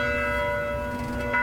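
Church bells ring steadily near a golf course during a women's professional golf championship, a sustained, tonal ringing that holds throughout at moderate volume with no talk over it.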